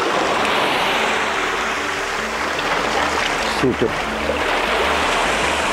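Steady broadband rush of sea waves and surf close by at Kaputaş beach near Kaş, Turkey, with a brief spoken word partway through.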